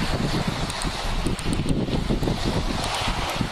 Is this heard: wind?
yes